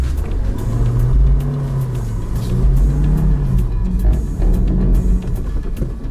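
A Lada Niva climbs a steep hill in low gear, its engine droning loud and close in a steady, laboring rumble that rises and falls slightly as it pulls upward.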